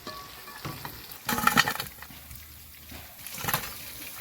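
Chicken frying in hot oil and being stirred in a pan; a soft steady sizzle with a couple of louder scraping stirs, close and without talk.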